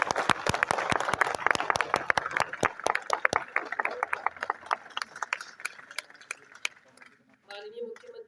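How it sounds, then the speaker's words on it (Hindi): An auditorium audience at an Uttarakhand event applauds in welcome of the chief minister, with dense clapping for about three seconds that thins into scattered claps before a voice begins speaking. "कृपया तालियों से स्वागत करें।"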